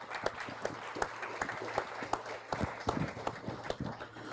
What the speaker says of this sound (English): Please join me in giving Professor Howard Yana Shapiro a round of applause.